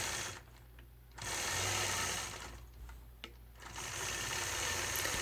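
A sewing machine stitches in the ditch while quilting a star block, with steady whirring runs that stop briefly and start again, close and fairly quiet.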